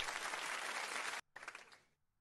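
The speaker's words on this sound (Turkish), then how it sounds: "Alkışlıyorum kendimi alkışlıyorum" Hands clapping in steady applause for about a second, stopping abruptly, then a shorter, looser burst of claps that fades out into near silence.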